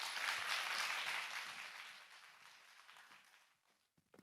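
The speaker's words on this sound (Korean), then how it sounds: "박수 부탁드리겠습니다." An audience at a business seminar applauds, a dense burst of clapping that starts full and steadily fades to silence within a few seconds.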